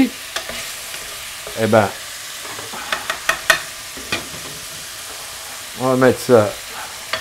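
Pork pieces frying in a pan, a steady sizzle broken by repeated bursts of scraping and stirring, close and clear, while a person talks briefly over the cooking.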